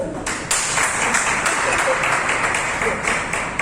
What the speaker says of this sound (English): Hey, clap for yourself.